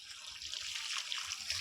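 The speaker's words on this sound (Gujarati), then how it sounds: "આપણે પાણી ચાલુ કરી દીધું છે આગળના ભાગમાં" Water running from a pipe onto henna plants outdoors, a steady, fairly soft hiss of flowing water with faint splashing, continuous throughout and heard alone.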